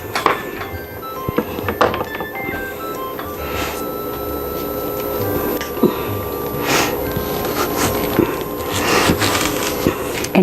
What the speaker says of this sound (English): you just cut it into a couple of wedges